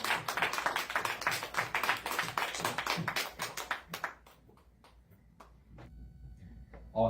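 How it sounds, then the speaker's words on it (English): Dense applause for two speakers at a coalition organization meeting, loud and steady for about four seconds, then thinning to a few scattered claps and small room noises. "can we get one more round of applause for both of our speakers today?"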